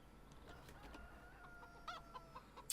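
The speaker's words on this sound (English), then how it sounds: "so we'll check the chickens while we're here" Chickens in the Farming Simulator 17 video game cluck softly in a low, steady murmur, with a few brighter clucks rising near the end over faint ambient game noise.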